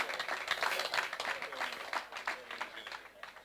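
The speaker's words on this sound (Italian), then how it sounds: "Allora Ciro Femiano consegna questa targa alla carriera a Turi Di Stefano con l'applauso del pubblico." Applause from an audience at an awards ceremony as a career plaque is presented, dense irregular clapping from many hands at moderate distance, rising and falling in bursts over a few seconds.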